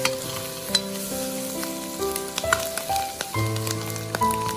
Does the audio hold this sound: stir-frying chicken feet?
yes